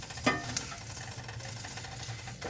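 French toast frying in a pan, a steady soft sizzle close by with a couple of light utensil knocks near the start.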